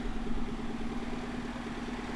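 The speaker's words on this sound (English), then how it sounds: "So the engine is carbureted, doesn't have any issue running." A carbureted 1986 Nissan Sunny pickup truck engine idles steadily, a continuous low rumble with a humming tone, close and even throughout with no talk.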